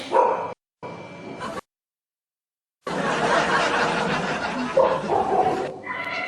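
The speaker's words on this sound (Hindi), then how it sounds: "कुत्ते भी आ गए गाइस।" Dogs bark at a live-streamed outdoor gathering, a few sharp barks and yips coming in short bursts near the start, then broken off, followed by a dense stretch of crowd noise and talk in which more barking seems to mix.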